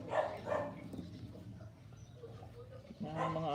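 Several dogs bark in short bursts, loudest at the start and again near the end, with a quieter stretch in between and some background voice activity.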